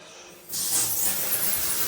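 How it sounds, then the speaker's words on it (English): A shower spray head rinsing down a mouldy shower enclosure during cleaning, a sudden steady hiss of water starting halfway through and continuing loudly. "let's give it a quick spray off"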